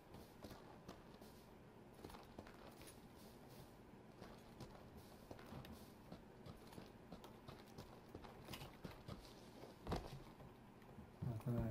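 Footsteps in the video game PUBG, a quick, steady run of soft thudding steps pattering along, faint and unaccompanied by talk, with a louder burst of movement near the end.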